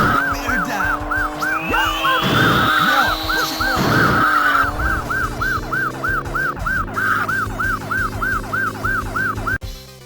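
A police car siren wails in a rapid repeating yelp in an arcade driving game, loud and close, with engine roar, tire screeches and crash-like bursts mixed in.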